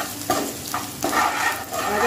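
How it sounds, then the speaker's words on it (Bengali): Spice paste of chilli powder, garam masala, sugar and salt frying in a pan, a close sizzle broken by several scraping stirs of a spatula at an uneven rhythm, no talking. "এটা ভাজা হচ্ছে"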